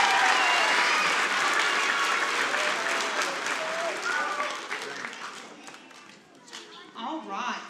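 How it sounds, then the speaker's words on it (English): A church congregation at a vacation Bible school service breaks into loud, dense applause that gradually thins and tapers off, with cheers and voices mixed in as it fades. "Will you give her a round of applause?"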